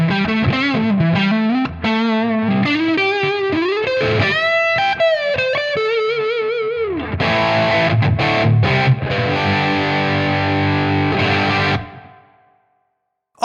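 Electric guitar played on the neck pickup through a Tonex amp modeler, first clean-ish chorused melodic picking and chords, then a loud sustained distorted chord section that rings out and cuts to silence near the end.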